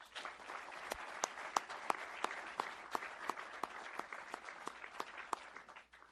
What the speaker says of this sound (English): Can I get a small round of applause for our families?